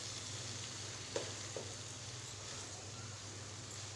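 Boiled rice sizzling and being stirred in a pan over a low flame for vegetable chicken fried rice, a soft steady frying hiss with a couple of faint scraping clicks from the mixing.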